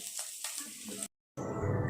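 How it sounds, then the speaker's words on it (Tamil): Chana dal and chopped ginger fry in hot oil for a Tamil potato poriyal, a soft close sizzle broken by a short silent gap before the crackle resumes slightly louder. "கடலைப்பருப்பு பொன்னிறமாக வறுத்திடுங்க"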